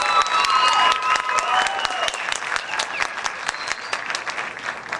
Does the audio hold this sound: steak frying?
no